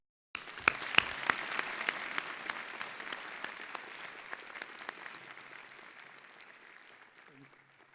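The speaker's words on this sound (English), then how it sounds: "Can you please give a warm round of applause to all the families and those who supported our" Warm audience applause at a graduation ceremony, a broad crowd of clapping hands that begins abruptly with a few sharp near claps, then gradually thins and fades over several seconds.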